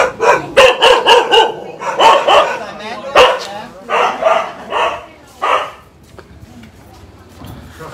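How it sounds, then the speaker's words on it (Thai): A dog barks repeatedly at a house in a mosque community in Thailand during a COVID-19 aid handout, loud close barks in bursts of several with short gaps, fading toward the end, with people speaking nearby. "บ้านนี้เนี่ยมาทีไรเห่าตลอดเลย"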